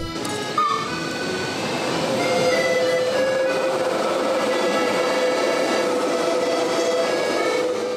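A Centovalli railway train runs through mountain country, its steady rolling rumble and rail noise sustained close by for the whole stretch, with a brief squeal near the start and a faint tonal whine riding over the wheels.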